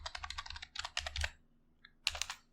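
Typing on a computer keyboard: a quick run of close, crisp key clicks in two bursts, a short pause, then a final cluster of taps.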